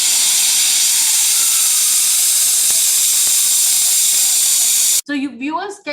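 Water mist hydrant system blasting a steady, loud hissing spray for about five seconds, then cutting off as a voice begins talking.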